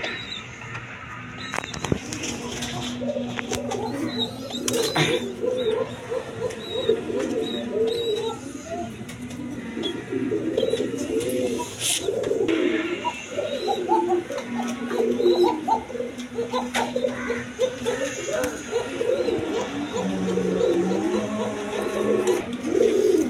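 Large lotan pigeons kept for sale at a pigeon trader's coo on and off in low, rolling murmurs, near and fairly steady, with faint voices and general bustle underneath.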